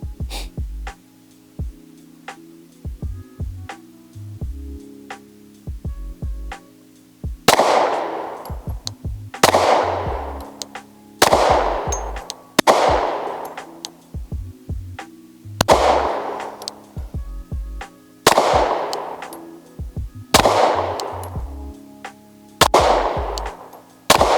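A gun fired outdoors in cold weather: about ten loud, sharp shots with ringing decays, spaced a second or two apart, following a quieter stretch, with steady tonal background sound throughout.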